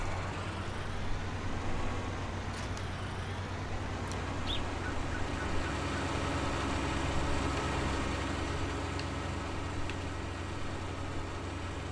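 A bigger tractor in Farm Sim 19 runs with a steady low engine drone and rumble, holding constant at moderate volume with faint clicks and chirps above.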